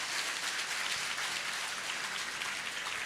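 A crowd at a motivational session for JEE/NEET aspirants with Jaya Kishori claps steadily, a soft, even wash of applause that holds for about three seconds.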